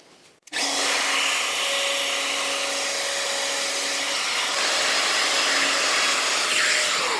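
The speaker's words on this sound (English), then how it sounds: "So I'm just going to rough out the hinges with the router." A wood router roughs out door hinge recesses, a loud steady high-pitched motor whine with cutting noise starting abruptly after a brief quiet moment and running continuously.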